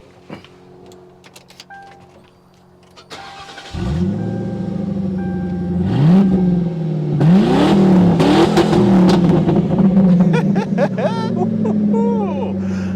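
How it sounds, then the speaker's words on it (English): A Mercury Marauder with its mufflers removed cranks and fires up, settling into a loud, throaty idle with several sharp revs that rise and fall close by, after a quieter stretch of faint background sounds. "Now this car does have some exhaust work done, but it actually sounds really cool."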